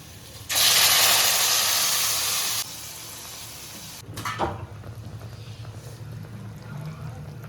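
Lemon chicken sauce poured into a hot pan bursts into a loud, steady sizzle for about two seconds, then fades into a quieter bubbling with a brief clatter of the pan.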